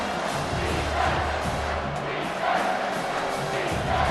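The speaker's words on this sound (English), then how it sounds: "The crowd elevating its energy, willing this defense to get a stop on this big 3rd down." Football stadium crowd at a Colorado State Rams versus Wyoming Cowboys college game, a sustained loud roar swelling with energy on a big third down, broad and continuous with faint shouts within.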